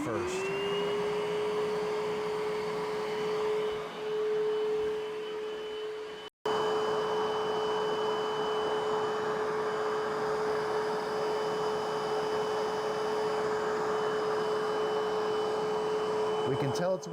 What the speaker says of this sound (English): I'm going to do quick clean first.